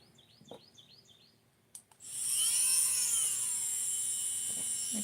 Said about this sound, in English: okay, I'm going to drill again.